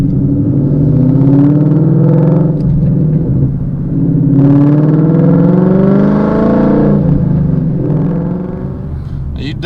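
A 2016 Mustang accelerates on the highway, its engine note climbing in rising sweeps, easing off between gears, then climbing again, loud and close from inside the car.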